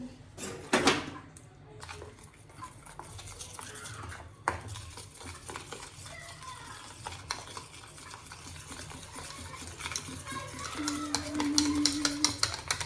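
Batter whisked in a bowl, a steady clattering stir with light scraping taps that runs throughout the clip at close range, with no talking over it.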